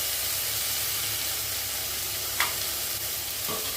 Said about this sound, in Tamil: நல்லா வெங்காயம் வதங்கி வரட்டும் வெங்காயம் ஓரளவு வதங்கிட்டு இருக்கும்போது தக்காளியை சேர்ந்து எடுத்து சேர்த்துக்கலாம்